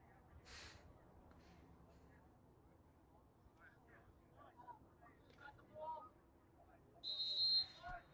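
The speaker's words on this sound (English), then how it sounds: "And we'll have a whistle here." A referee's whistle sounds during a boys lacrosse game between Tenafly and Pequannock, a short, sharp, fairly distant blast near the end, heard over a faint crowd murmur and a commentator talking.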